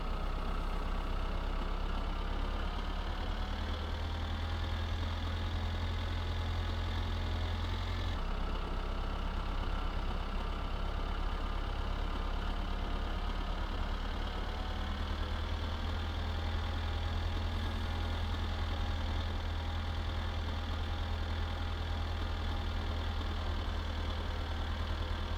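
A tractor engine running in the game My Summer Car, a steady low droning idle with a constant hum, close and unbroken for the whole stretch, small shifts in pitch now and then, no voices.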